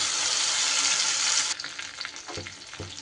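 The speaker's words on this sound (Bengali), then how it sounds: "মশলা দিয়ে এবার খুব সুন্দর করে আমি কষিয়ে নেব" Ground spice paste sautés in hot oil with cumin and whole garam masala for a cabbage dhokar dalna, a loud hiss at first easing into crackling sizzle with spoon knocks.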